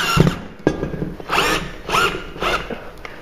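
A power drill drives a screw for a shelf bracket into drywall in short whirring bursts, three close, loud pulses with brief pauses between them and no talking.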